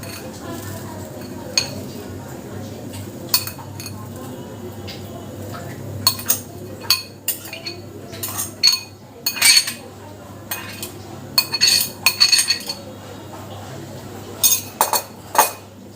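A spoon clinks and scrapes against a pot as grated coconut goes into boiling milk for Bengali coconut ladoo, with scattered sharp metallic knocks over a low steady kitchen hum.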